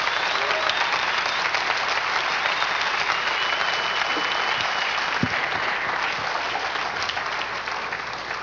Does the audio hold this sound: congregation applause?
yes